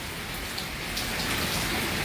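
Heavy rain falls during a storm in Kaithal, a dense, continuous roar of downpour hitting surfaces, loud and unbroken, with no voices.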